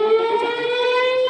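A steady, wailing air raid siren holds one rising tone, loud and continuous with no voices.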